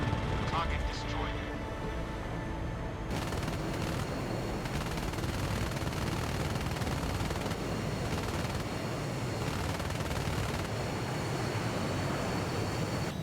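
Aircraft machine guns fire during strafing runs in the video game IL-2 Korea, with rapid rattling bursts over a constant roaring engine drone, dense and close throughout, and a voice speaking in places.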